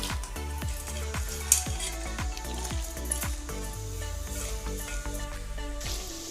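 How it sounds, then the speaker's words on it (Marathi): Dried coconut frying in hot oil for a poha chivda, a steady close sizzle broken by a regular series of metallic knocks and scrapes as the pan is stirred. "खोबरं मी तळ्यात टाकते।"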